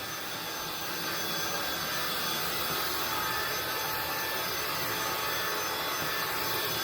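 An INSE V120 cordless vacuum cleaner runs steadily, a constant, fairly quiet motor hiss with airflow and no high-pitched whine, holding the same level throughout.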